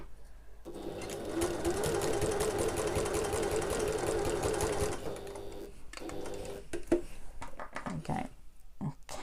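A sewing machine stitches the short end of a backpack with back stitching, running in one steady close whir for several seconds, then stopping into scattered clicks and handling noises.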